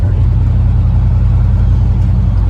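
A 1989 Chevy OBS truck running with no muffler, its carbureted engine giving a loud, close, steady low rumble that holds throughout without a distinct rev.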